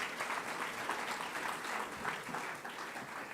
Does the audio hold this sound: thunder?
no